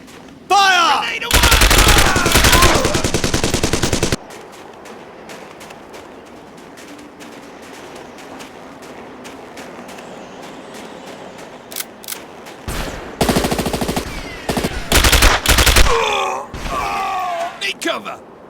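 Loud bursts of rapid automatic gunfire in the video game SAS: Secure Tomorrow, one long volley near the start and more later, with shouted voices and grunts in between.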